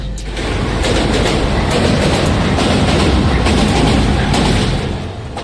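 A delayed passenger train runs on the tracks near Prayagraj Junction at night, a loud, steady rumble with rhythmic clicking of wheels over rail joints, heard from close by with no talk.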